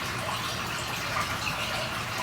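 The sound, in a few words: water flowing out through a drainage bleeder notch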